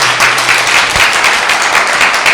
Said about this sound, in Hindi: यीशु का स्वागत ताली बजाकर करेंगे सभी लोग